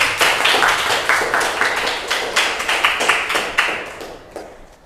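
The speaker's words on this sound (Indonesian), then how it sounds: "tepuk tangan dulu" A small classroom group claps hands for a student, a quick flurry of close, sharp claps that stays lively and then thins out and stops near the end.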